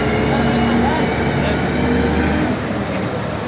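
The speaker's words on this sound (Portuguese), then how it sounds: "Mais um busão, olha!" A bus rumbling past close by on a road, a loud sustained low engine drone with broadband road noise that slowly eases off, with a voice speaking over it.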